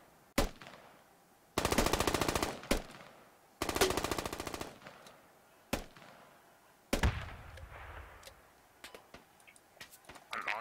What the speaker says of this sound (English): Shots to the east, I told you,